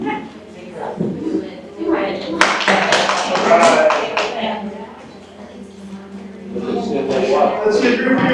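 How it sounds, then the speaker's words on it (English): Applause breaks out from the audience at a West Covina Parks & Recreation community workshop, a burst of clapping rising over room chatter and then tapering while voices carry on. "Let's give Rich a round of applause."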